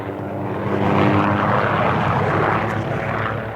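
A helicopter's engine and rotor drone steadily over remote New Zealand backcountry, loud and close, holding a constant rumbling roar throughout.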